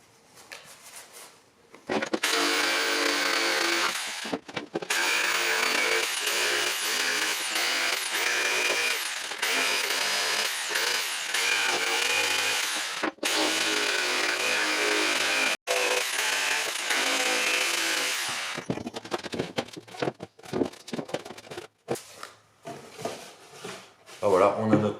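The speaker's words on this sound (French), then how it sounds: "on va le faire complet à la scie sauteuse" A jigsaw cuts through wood while making a sturdy DIY crate, running loud and nearly continuous with brief pauses between passes, then breaking into shorter bursts near the end.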